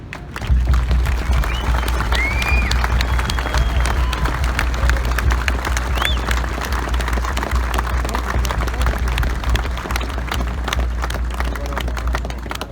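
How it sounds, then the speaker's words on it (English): Crowd at an FDNY memorial ceremony at a Manhattan firehouse, a sustained wash of applause and scattered cheering, loud and close, with low rumble underneath and a few faint voices mixed in. "there was like a cheer starting out here a little earlier that kind of died out"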